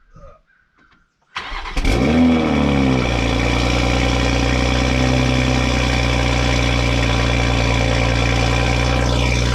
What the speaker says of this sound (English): Let's go ahead and put it in sport mode and get ourselves a real cold start now.